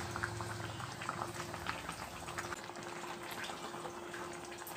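A pot of banana flower and drumstick leaf kootu boils steadily, a soft continuous bubbling with small pops, heard close but quiet throughout, with no voices.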